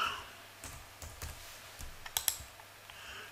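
Typing the value -720 on a computer keyboard: a short run of scattered key clicks and a couple of sharper taps, close and fairly quiet, with no voices.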